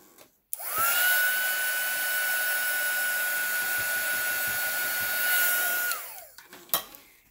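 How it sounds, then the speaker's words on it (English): A heat gun dries alcohol ink on a painting of Christmas trees, switching on with a click into a steady, close whirring blow with a high whine for about five seconds before winding down, followed by a few light taps. "I'm going to take the heat gun so I can set it up."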